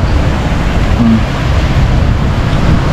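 Strong ocean waves breaking on the shore, a loud, dense, continuous wash of surf close by, with wind roughness in the microphone and no voices.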